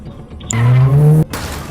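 A car in the horror video game Granny skids off with a loud, close tire squeal and rising engine tone lasting under a second, followed by a steady motor drone.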